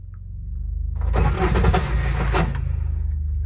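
A hard-starting diesel Intimidator UTV cranks as its starter Bendix engages, giving a loud, rough mechanical grind over a steady low idle-like hum, lasting about a second and a half before stopping.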